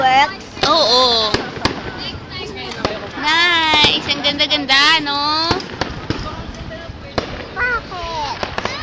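Fireworks bursting at a lantern parade, a run of sharp pops and crackles across the clip, partly masked by excited nearby voices of adults and someone talking and exclaiming.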